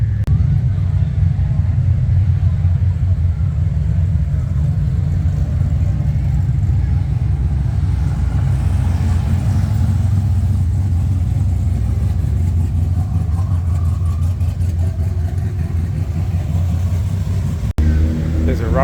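A rotary-engined muscle car at a street car meetup in Redcliffe passes close by, a loud continuous engine drone that rises and swells midway, with voices talking underneath.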